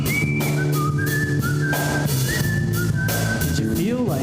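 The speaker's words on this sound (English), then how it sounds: "That's what they call a slide whistle." Slide whistle playing rising and falling gliding notes over continuous background music, loud and close, with quick swoops and a final upward warble.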